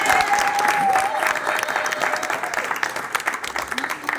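A church congregation claps and applauds to acclaim Jesus, a steady, fairly close wash of clapping with some voices mixed in.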